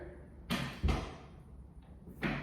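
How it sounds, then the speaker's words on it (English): An indoor door swings shut with a pair of sharp thumps close together, followed by a quieter pause and one more firm knock near the end, all nearby and without talk. "let's just close this door"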